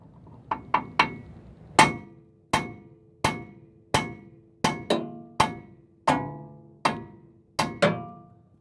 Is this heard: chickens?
no